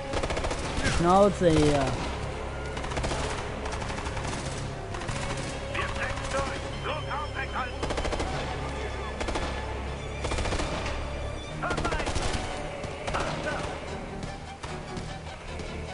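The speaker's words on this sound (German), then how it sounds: "Die schießen auf dich!" Gunfire from Ghost Recon: Future Soldier, rapid machine-gun bursts and single shots that go on steadily through a chaotic firefight, with voices shouting over the shooting.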